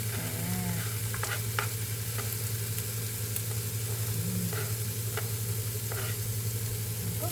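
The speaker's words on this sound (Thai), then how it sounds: "นี่จ้ะก็คั่วคั่วคั่วคั่วก็ผัดผัดนะคะ" Sliced bell peppers sizzle steadily in a hot pan while being stir-fried, with a constant frying hiss and occasional scrapes of the spatula, close and alone without speech.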